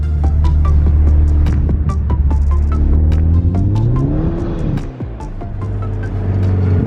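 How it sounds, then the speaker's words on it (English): A Mitsubishi Lancer Evolution X engine drones and revs steadily while driving in snow, rising and falling in pitch as it accelerates, with crunching and clicking underneath; no talking. "maybe have one last little drive in the car before it gets gone tomorrow"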